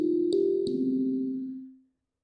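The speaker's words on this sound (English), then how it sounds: "that's the sound of that xylophone patch being filtered through" Xylophone synth patch run through a Kilohearts Convolver plugin: two quick mallet-like taps, then a sustained, resonant, ringing low tone that slowly fades to silence.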